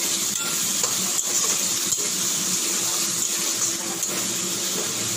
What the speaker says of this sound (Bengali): মাছ ভাজা তেলের মধ্যে আমি আলুগুলো দিয়ে দিচ্ছি। আমি আলুগুলো ভেজে নেব।